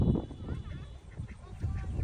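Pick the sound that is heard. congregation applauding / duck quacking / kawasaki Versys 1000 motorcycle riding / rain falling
duck quacking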